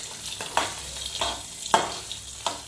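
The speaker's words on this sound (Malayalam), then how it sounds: "സേമിയ വേവണ വരെ നമുക്ക് ഇളക്കി വെക്കാം." Vermicelli payasam being stirred in a pan: a soft sizzling bed with spoon strokes scraping through every half second or so, the stirring near and moderately loud, and no voices.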